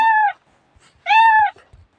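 A cat meows twice, loud and close, each cry drawn out with a short pause between and faint rustling after.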